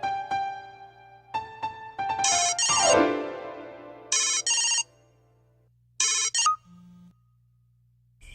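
A telephone ringtone plays in a Bhojpuri film scene: a few rising electronic tones, then bright repeated trilling bursts separated by short gaps, over a steady low hum, with no voices.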